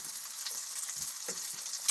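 Food sizzles on a grill in a quiet, steady crackling hiss with small pops and spits, fairly faint and close, with no talking.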